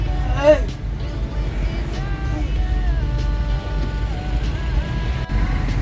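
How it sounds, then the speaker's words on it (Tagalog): Road traffic in San Pablo heard from a stainless-steel jeepcycle sidecar: a steady low engine and road rumble with a passing horn-like tone early on, under continuous nearby talking. "Traffic mga idol ng ating Jeep Cycle."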